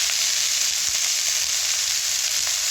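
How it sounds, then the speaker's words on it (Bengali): Cabbage hits hot oil in a pan and sizzles loudly and continuously, a dense close hiss of frying with faint stirring underneath. "তেলটি গরম হয়ে গিয়েছে। এবার কপি দিয়ে দিচ্ছি।"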